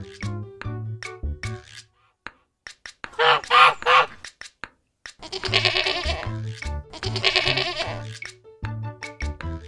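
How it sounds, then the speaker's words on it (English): A goat bleats in a short burst and then a longer, quavering run of cries, loud and near, set against the upbeat instrumental music of a farm-animal song. "Goat."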